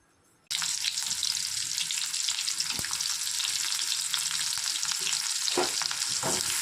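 Chopped onions hit hot oil in a kadai and burst into a loud, close sizzle that continues steadily, with occasional clinks of stirring and no talk.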